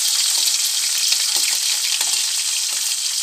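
Onion, curry leaves and green chillies frying in hot oil after mustard seeds have popped, a steady, dense, loud sizzle with faint scraping from stirring throughout.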